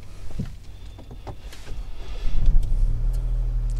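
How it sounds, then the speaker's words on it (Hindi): Mahindra XUV 300 turbo petrol engine cranking to life, then settling into a steady low idle rumble that grows louder after the start and holds evenly to the end. "अब क्विकली मैं गाड़ी को स्टार्ट करूंगा एंड इसकी रिफाइनमेंट हम चेक करेंगे"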